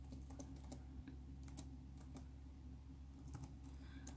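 Quick, light keystrokes on an HP Envy 17.3-inch 4K laptop keyboard, a soft irregular run of clicks close by over a quiet room hum.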